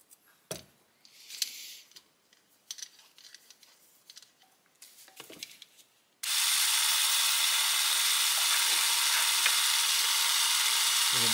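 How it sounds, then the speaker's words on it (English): Speedometer cable hooked to the gearbox angle drive and spun by a drill: scattered faint clicks and handling noises, then a steady loud whirring hiss for the last five seconds. "And then connect this end to a drill."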